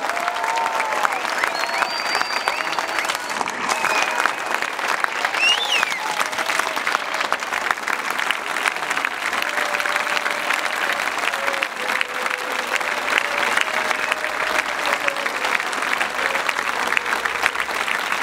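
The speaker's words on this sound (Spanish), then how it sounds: "les pido un muy fuerte aplauso para el compañero Raúl Zaffaroni" Sustained, even applause from an audience at a talk and debate honoring Dr. Raúl Zaffaroni at the Café de los Patriotas. The dense clapping carries on steadily for a long stretch, with faint voices and cheers threaded underneath.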